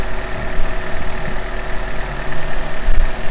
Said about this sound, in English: it's idling really smooth right now